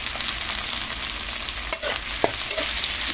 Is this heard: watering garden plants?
no